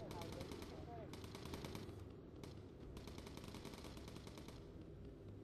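Sustained machine gun fire from bomber gunners in an aerial combat video game, a continuous rattling stream of rapid bursts with brief gaps, loud and dense throughout with faint voices in the background.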